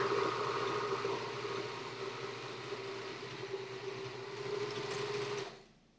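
A sewing machine stitches steadily along the bottom seam of a bag, a close, continuous mechanical whir that runs unbroken for several seconds and then cuts off abruptly near the end.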